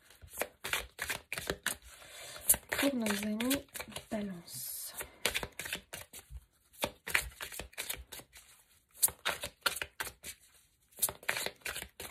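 Tarot cards being shuffled, drawn and laid down during a general-public card reading, a run of quick close papery flicks and taps in uneven bursts, with a voice speaking between them.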